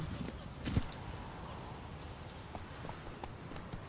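Horse hooves clip-clopping at a steady walking pace while riding in The Witcher 3 video game, a soft continuous rhythmic clatter under faint background ambience, with a brief louder knock early on.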